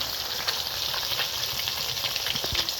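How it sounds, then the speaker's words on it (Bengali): Rohu fish pieces frying on a clay stove give a steady, dense sizzle with crackling pops throughout, close and fairly loud, with no voices. "মাছগুলো ভাজা হোক"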